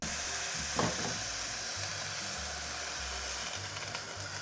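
Steam hissing from a pot of rice cooking on the stove, a soft continuous airy hiss with low rumbling underneath, fairly faint and steady, no voices.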